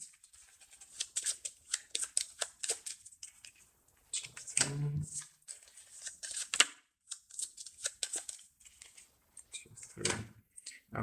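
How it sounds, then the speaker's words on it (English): Game cards from the board game Space Race are shuffled and sorted into three piles, a string of quick, soft riffles and slaps at close range, with a brief low thump partway through. "Cards, so I have to shuffle these"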